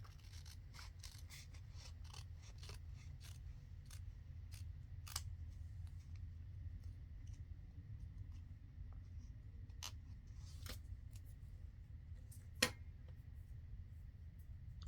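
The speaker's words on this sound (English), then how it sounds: "I'll just trim a little off of here." Scissors trim a paper craft belly band in a quiet room, making a series of faint, crisp snips at an irregular pace, with one sharper click near the end.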